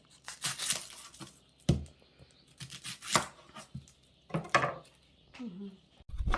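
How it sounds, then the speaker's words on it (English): A knife chops an onion on a board in short, uneven strokes, with clicks and scraping that come and go between brief pauses. "just cut up the onion and put the onion in the bowl"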